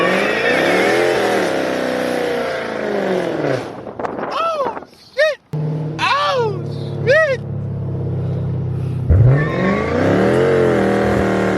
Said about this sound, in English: I'm gonna see if my tires actually get loose.